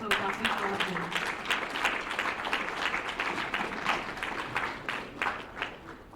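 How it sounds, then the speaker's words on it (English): An audience claps together at a gathering after being asked to, a steady patter of many hands with a few brief voices over it, fairly quiet and even throughout. "So can we clap?"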